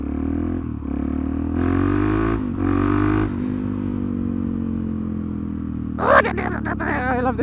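A Suzuki DRZ motorcycle ridden along a gravel road, its engine holding a steady close drone with brief surges in revs and a burst of rattling clatter near the end.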